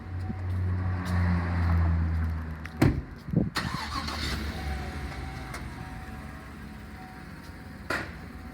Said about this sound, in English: I'm going to go ahead and back the truck up.